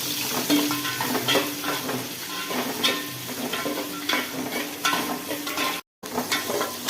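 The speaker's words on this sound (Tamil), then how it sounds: "வெங்காயம் போட்டு நல்லா வதங்கிடுவோம்." Onions sautéing with fenugreek seeds in a hot pan give a dense, loud, continuous sizzle close up, with occasional spoon scrapes and clinks against the pan and no talking.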